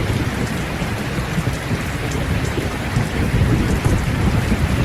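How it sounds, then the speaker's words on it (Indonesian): Steady rain splashing on a carport roof at night, a dense continuous patter with deep rumbling undertones, fairly loud and unbroken with no voices. "terasa sunyi hanya terdengar percikan air hujan di atas karport"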